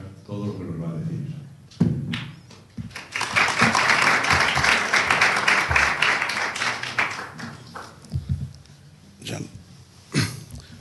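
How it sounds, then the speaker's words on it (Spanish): Audience applause welcoming the guest speaker at a talk on exotic birds facing extinction, a sustained burst of clapping across the middle, with voices and scattered taps before and after. "le vamos a darle un aplauso"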